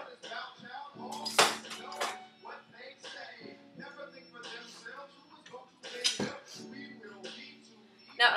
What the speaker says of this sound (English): we need to chop up this tomato.